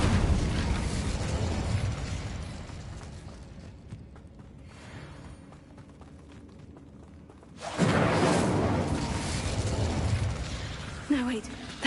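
An Incendio fire spell cast in Hogwarts Legacy, a loud whooshing burst of flame that erupts suddenly after a quieter stretch and roars on for several seconds amid combat noise.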